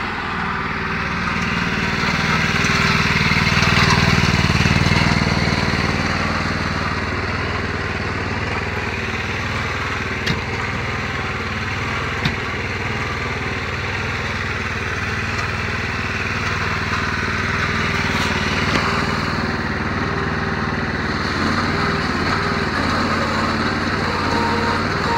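An engine-powered log splitter runs steadily nearby, its small engine droning continuously with a slight swell early on and a few faint knocks, and no talking.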